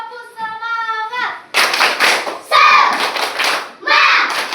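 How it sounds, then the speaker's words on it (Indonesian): Children at a school gathering doing the rhythmic 'tepuk semangat' spirit clap, a burst of loud, close group clapping in quick patterned beats with shouted chants, following a brief sung or hummed tone. "Sekali lagi tepuk semangat."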